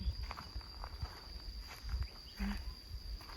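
Quick footsteps through a forest, brisk crunching steps in an irregular rhythm, fairly close and moderately loud, with a steady high insect drone running behind them.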